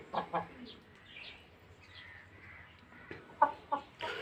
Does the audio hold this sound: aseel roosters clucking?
yes